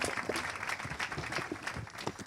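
Scattered applause from a modest audience at a business event in Pyrénées-Orientales, France, steady and moderately loud, with a few individual claps standing out over about two seconds.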